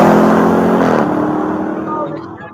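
A 710-horsepower Dodge Durango SRT engine revs hard and then fades, its strong tone dropping away over a few seconds, with voices briefly heard as it quiets.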